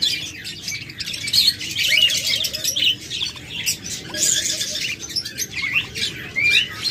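A pet bird pair, a lutino female and a pied male, chirp close by. Quick, bright tweets and short squawks come in irregular bursts throughout, with a soft lower twittering underneath.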